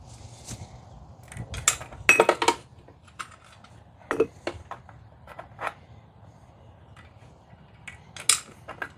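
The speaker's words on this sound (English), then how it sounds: "Go ahead and put our carburetor back on." A carburetor is refitted to an old boat motor in a quiet space. Sparse metallic clicks, taps and clinks of parts and tools sound at irregular intervals, some sharp and close, over a low background hum.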